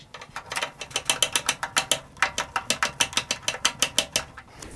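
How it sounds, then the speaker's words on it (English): Screwdriver driving two cross-headed screws to secure a graphics card in a PC, a close, rapid series of sharp ratcheting clicks repeating steadily throughout, with no talking. "take your two cross-headed screws and your screwdriver and secure the graphics card"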